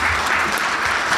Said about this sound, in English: please join me in giving Lindsay a round of applause